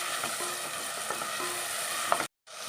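Tomato and green chili paste sizzles steadily in hot coconut oil, a continuous close frying hiss with faint stirring scrapes, cutting out abruptly near the end before resuming.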